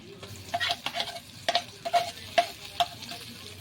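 Onions frying in oil in a pan at a winter picnic, a soft continuous sizzle broken by repeated sharp clicks of a spoon stirring against the pan, close up, with no voices.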